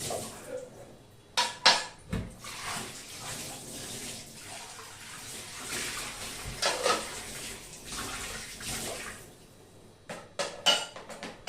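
Dishes being washed under running tap water in a home kitchen, with a steady broadband water rush punctuated by clinks of pots and cutlery, several sharper knocks near the start and end.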